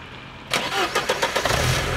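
A car's engine cranks and catches after being lifted with zip ties, a brief starter whir followed by the engine firing into a close, loud idle.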